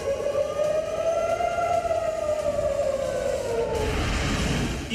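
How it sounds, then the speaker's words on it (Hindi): Air raid siren alert wailing loud and continuous in a war zone under rocket and drone attack, its pitch slowly rising then falling before a burst of broadband noise near the end. "सायरन के अलर्ट से दहशत।"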